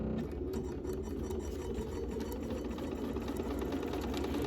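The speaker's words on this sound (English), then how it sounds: "sew them in my nicest 1/4 inch seam" A sewing machine runs a steady quarter-inch seam joining quilt blocks, its motor whirring continuously with a fast, even stitching rattle, close and alone.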